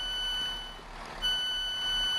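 Quiet electronic train door warning tones in Train Sim World, on a Class 166 Networker, sound in steady, high-pitched beeps over a faint mechanical hum.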